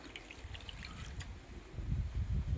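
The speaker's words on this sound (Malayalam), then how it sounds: "വാളൻപുളി ഒന്ന് കുതിർത്താനിട്ടിടാം വെള്ളം ഒഴിച്ചു കൊടുക്കാം" Water is poured over a lime-sized piece of tamarind in a bowl to soak for sambar, a quiet trickle that grows into a fuller, louder pour toward the end, with no talk.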